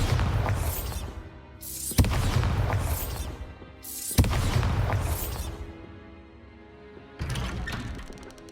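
Bombarda spell blasts in Hogwarts Legacy, three loud booming bursts roughly two seconds apart, each swelling and fading, followed by a softer fourth burst near the end, with no talking.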